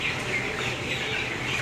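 Dense chatter of 18-day-old broiler chickens in a hot poultry shed with fans running, a steady, loud wash of overlapping cheeps and clucks.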